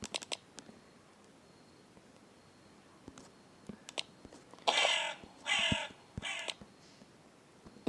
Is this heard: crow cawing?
yes